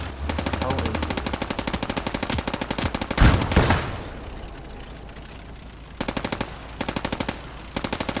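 A tank's light machine gun fires in a video game. Long rapid bursts rattle close and loud, a heavy blast hits midway, and shorter bursts follow after a pause.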